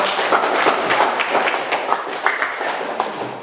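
A classroom group in a Catholic religious education lesson gets a round of applause, dense scattered clapping from many hands lasting a few seconds and fading slightly toward the end.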